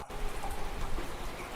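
A played rain ambience recording gives a steady, soft hiss of falling rain with faint pattering drops, even and continuous throughout.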